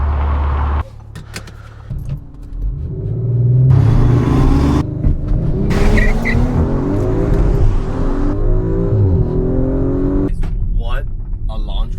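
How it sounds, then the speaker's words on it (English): An Audi RS5 Sportback engine roars as the car accelerates hard from a standstill using launch control, revving up through the gears, with people talking over the engine noise inside the cabin. "What a launch control that was."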